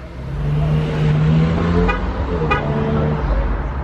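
A car horn gives two short chirps as the car is locked, over steady outdoor traffic rumble nearby.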